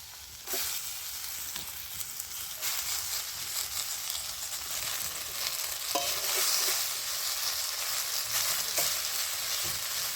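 Washed potato greens hit hot oil in a pan with vegetables, a loud continuous sizzle and frying crackle with occasional scraping stirs, close and steady throughout.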